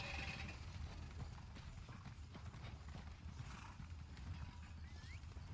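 Horse hooves clip-clop steadily with a neigh in the Elder Scrolls Online game world, heard faintly under ambient game sound.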